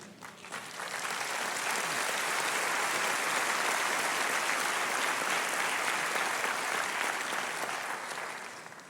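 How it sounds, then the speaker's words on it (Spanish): Church congregation applauding during a Spanish-language sermon: a dense, sustained wash of clapping that swells in within the first second and holds steady and loud for about eight seconds before easing slightly at the end. "Si esto lo hizo aplaudir,"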